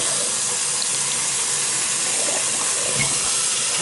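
Water runs steadily from a tap while etched glass is rinsed, a constant close hiss with faint splashing and no speech.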